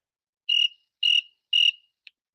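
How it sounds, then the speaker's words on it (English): Three evenly spaced, clear cricket chirps sound close and alone in a quiet background, followed by a brief faint fourth trace, as a sound effect. "I got to put my crickets up"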